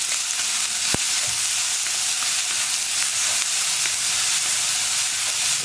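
Onion and curry leaves sauté in a pan with a steady, close sizzle and hiss and an occasional scrape of stirring, with no voices.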